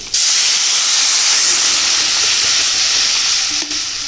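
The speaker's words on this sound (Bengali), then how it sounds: "এখন কিন্তু জল দিয়ে দেবো।" Water poured into a hot pan of turmeric-fried taro greens, taro stolons and shrimp sets off a loud, sustained hiss and sizzle, with a brief clatter near the end and no talking.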